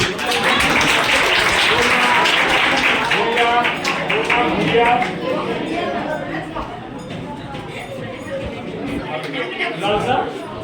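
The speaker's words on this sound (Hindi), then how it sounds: "ताली बजाते रहो" Audience at a felicitation ceremony for students who passed matriculation and intermediate exams claps continuously, louder at first and gradually thinning, with crowd chatter underneath.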